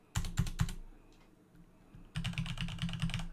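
Fingers type on a mechanical keyboard with Cherry red switches in two quick bursts of close, crisp key clacks, separated by a short quiet gap.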